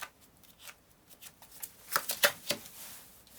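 Tarot cards are shuffled and drawn by hand, soft papery riffles and flicks that build into several crisp snaps, close and quiet with no talk.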